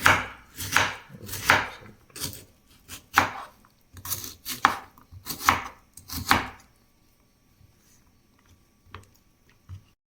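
A knife chops through mango on a cutting board in quick bursts of sharp, close knocks, several strokes grouped together, then a pause with only a few scattered taps.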